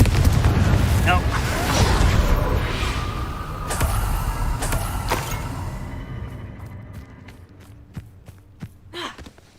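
A Confringo fire spell explodes in the Hogwarts Legacy video game: a loud, rumbling blast that slowly dies away, followed by scattered sharp clicks, with voices speaking in the game.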